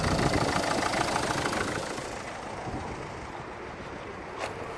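A Renault Megane II engine with a cylinder 2 misfire idles loudly with a low rumbling drone, easing slightly in level partway through before a brief faint click near the end.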